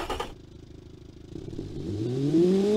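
A car engine in the game Automation on a test run, idling with a steady low rumble before revving up in a rising, loud whine, heard alone.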